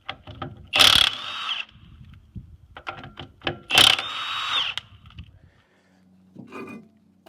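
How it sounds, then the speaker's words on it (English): Lug nuts being loosened from a trailer wheel with a ratchet, heard as two loud, close bursts of rapid mechanical clicking with scattered knocks between them, then near quiet and a faint clunk at the end. "Next, I'm going to remove the lug nuts."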